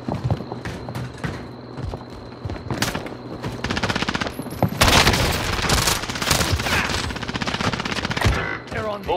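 Dense video game gunfire, rapid automatic bursts and loud booms filling the scene, rising in intensity with crackling volleys throughout.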